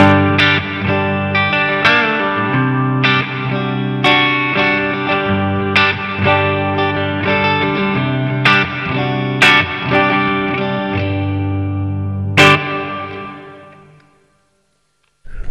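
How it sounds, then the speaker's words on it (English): Electric guitar chords strummed repeatedly through a Marshall JVM 210 amp with its built-in digital reverb, a roomy, lingering wash, notes trailing off as the playing fades out near the end. "It's digital reverb built within the amp"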